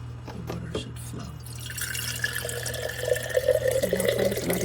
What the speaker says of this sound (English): And now the water should flow.